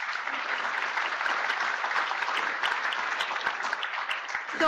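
Steady applause from a summit audience for a departing panel of speakers, dense and sustained at even loudness for several seconds, with a brief voice cutting in right at the end.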